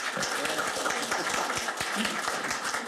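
Steady, dense applause fills a Korean party meeting room as a departing guest is seen off, even rhythmic clapping from a seated group throughout, moderately distant.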